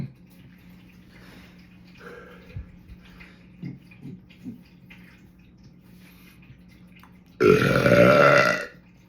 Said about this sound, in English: let's see what natural burps come.